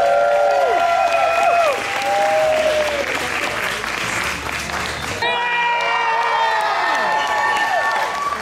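Audience at a steampunk convention fashion contest at Old Tucson Studios applauds and cheers contestants on stage, a loud continuous wash of clapping with shouts and whoops that briefly dips then surges again near the end.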